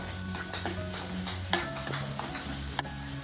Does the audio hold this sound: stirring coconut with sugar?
yes